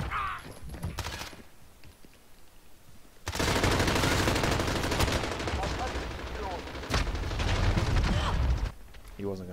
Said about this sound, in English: He wasn't going to stop shooting.